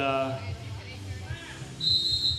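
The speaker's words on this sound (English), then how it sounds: "That is the bell to say, let's start it. And when I say bell, I mean whistle." A referee's whistle starts a jam in a roller derby bout, a short shrill blast near the end over crowd murmur and an announcer's voice.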